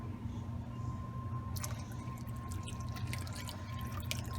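Water is poured into a pot of milk and heavy cream for mac and cheese, a soft steady liquid trickle with faint drips and splashes building in the middle, heard up close with no talking.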